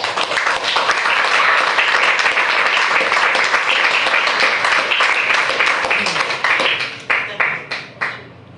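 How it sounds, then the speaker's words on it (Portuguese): A church congregation claps loudly and steadily for several seconds, the applause thinning into a few scattered final claps at the end. "Vamos aplaudir a Jesus aí"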